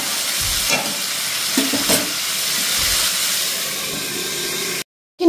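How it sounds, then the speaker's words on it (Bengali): Fish rubbed with salt and turmeric frying in hot oil, a continuous close sizzle with a few spatters, ending abruptly in a brief silence. "নুন হলুদ দিয়ে ভাজা হবে"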